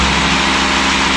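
A 2019 Audi RS3 engine, badly damaged with several exhaust pipes still off, runs as it first fires up: a loud, steady, close idle rumble with no break for the whole moment.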